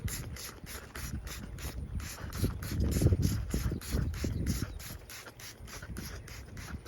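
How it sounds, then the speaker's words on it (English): A pool cleaner spray is applied in a quick run of rhythmic bursts, a steady series of hissing pumps close by with a denser, louder patch in the middle. "I'm just gonna spray it real good all the way in there."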